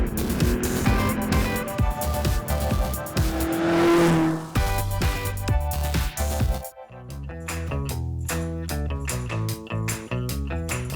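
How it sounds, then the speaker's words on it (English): Loud, close racing cars at the 2016 Chateau Impney Hillclimb roar and rev hard, with a high tyre screech midway, then sharp gear-change bursts as a car accelerates away. "comes alive with the sound of mighty rumbling engines and screeching tyres"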